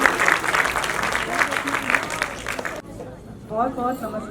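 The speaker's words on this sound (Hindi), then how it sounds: "निधि जैन का जोरदार स्वागत कीजिए, जोरदार तालियां" Steady audience applause welcomes someone speaker at a charitable foundation event, filling the room for a few seconds before cutting off as a voice begins talking.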